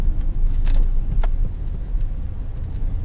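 A pickup truck rolls along a farm road on a windy day, giving a steady, close engine and road rumble throughout, with no talking.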